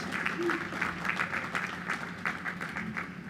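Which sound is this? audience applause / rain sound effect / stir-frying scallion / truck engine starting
audience applause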